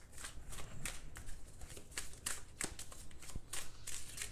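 Tarot cards being shuffled in quick, riffling bursts of crisp papery slaps and flutters, close and fairly quiet, with no talking.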